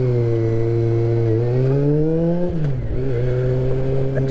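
An Aprilia Shiver motorcycle engine revs up and down close by, its loud, buzzing drone rising in pitch, dipping briefly, then settling back to a steady throttle.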